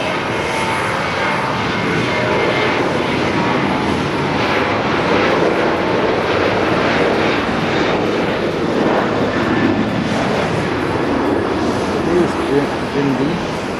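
A British Airways airliner at Haneda, its engines giving a loud, continuous broad roar that lasts the whole time, with talking over the noise.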